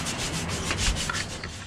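Sandpaper rubbed by hand over a bike frame being stripped for a repaint, a close, steady scratchy rasp in quick back-and-forth strokes with no pauses.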